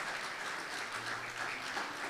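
An audience claps together in a hall, a soft, even wash of applause that holds steady without any talk.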